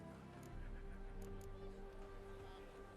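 Bay Zerrikanian horse in The Witcher 3 game, a short whinny with soft hoof clip-clop against quiet background tones, no talking over it.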